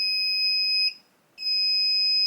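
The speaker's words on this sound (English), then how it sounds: "The remote control beeps twice to confirm that it's now programmed." Two sustained high-pitched electronic beeps separated by a short gap, loud and close, from a FieldTech Traplink Pro 4-channel clay pigeon trap remote confirming it is programmed.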